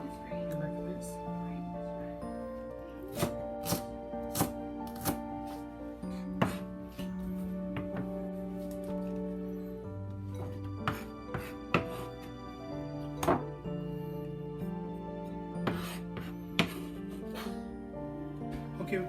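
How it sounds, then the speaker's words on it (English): A knife chops ginger on a cutting board in irregular, fairly quiet taps under steady background music, and a person speaks over part of the chopping. "Okay, we cut some ginger"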